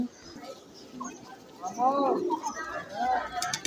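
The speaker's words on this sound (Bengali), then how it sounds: "এরপর আবার আমরা ফিরে এসলাম জালালি কবুতর দেখার জন্য অত্যন্ত আকর্ষণীয় কবুতরগুলা মানুষের এত কাছে চলে আসে" Jalali pigeons cooing at the Shah Jalal shrine in Sylhet, several soft throaty coos close by, with a voice talking over them.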